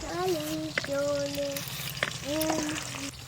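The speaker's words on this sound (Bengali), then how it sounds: "আলু কাটতে কাটতে এই মাছগুলো ভাজা হয়ে গেল এবার তুলে নেব" Rohu fish pieces fry in a pan with a steady crackling sizzle, partly under sustained tonal voice-like sounds and a few sharp clicks.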